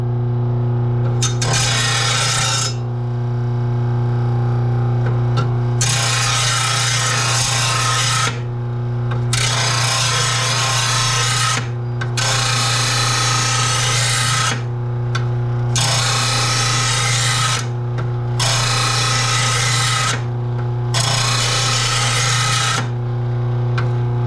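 A lawn mower blade is sharpened in repeated long passes, each a loud harsh grinding rasp lasting a couple of seconds, separated by short pauses over a constant low machine hum.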